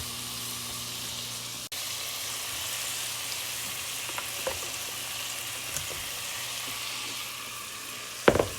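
Onions cook down in a pan with salt for French onion soup, giving a steady broadband sizzle with a few faint scrapes and knocks of stirring, plus a louder clatter near the end.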